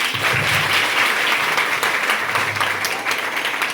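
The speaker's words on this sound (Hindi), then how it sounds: "तो मैं सबों से चाहूंगा कि सर के लिए एक जोरदार ताली हो जाए" Loud, dense applause from an audience at a school farewell ceremony, honoring a teacher; steady broadband clapping fills the whole stretch without pause, with some low hum beneath.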